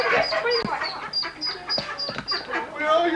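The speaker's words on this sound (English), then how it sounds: "That's the smart duck." A duck quacks in a rapid run of nasal calls, close and loud, with the steady rhythm broken by short gaps and people chattering underneath.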